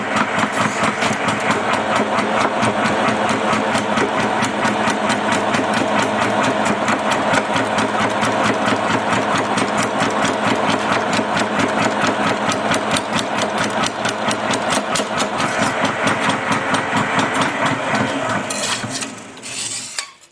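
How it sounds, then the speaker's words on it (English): A sheet metal flanger machine forms a curved flange in a panel for a Willys FC 150 cab wheel house, a fast, steady mechanical chatter running loud and continuous before stopping abruptly near the end. "So now we're going to go over on the flanger and put this curved flange in"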